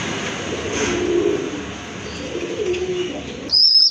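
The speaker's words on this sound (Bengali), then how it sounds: "আর এখন কিন্তু এক জোড়া দেশি কবুতর দেখতে পাচ্ছেন" Domestic pigeons, a red indigo pair, coo and murmur softly in a low, steady drone close by, with a brighter burst of bird sound near the end and no talking.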